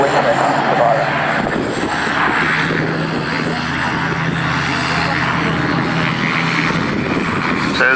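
An RAF Sea King helicopter hovers at an air show, its engine and rotor roaring loud and steady throughout while someone talks over it.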